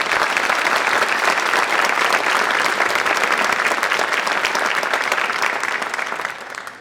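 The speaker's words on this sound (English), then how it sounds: "Let's give them one more round of applause" Audience applause at a 2023 honor societies induction ceremony, a dense, sustained round of clapping from a full room that tapers off at the end.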